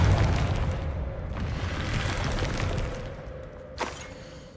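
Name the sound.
Bombarda and Confringo explosion spells in the video game Hogwarts Legacy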